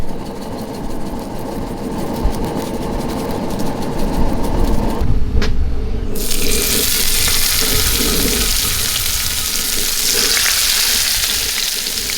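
Corn tortillas laid on a hot wok for white bass fish tacos, a loud crackling sizzle that swells midway, briefly drops, then returns as a bright steady hiss.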